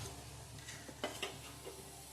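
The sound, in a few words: patra frying and sizzling in a pan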